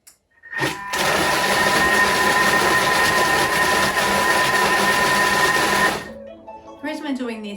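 A kitchen mixer runs steadily at speed 5 for about five seconds, blending curry powder into a mix with its lid and measuring cup in place, giving a loud, even mechanical whir that stops abruptly before a voice speaks briefly.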